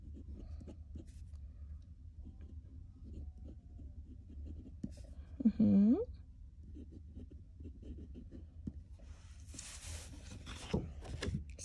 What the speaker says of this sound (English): So if you notice, it writes super fine, extra fine nib.